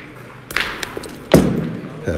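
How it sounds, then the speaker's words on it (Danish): A petanque boule shot strikes another boule at a European championship match, a sharp single clack amid ambient crowd and commentary noise, with a lighter tap earlier. "Perfekt skud fra Kanté."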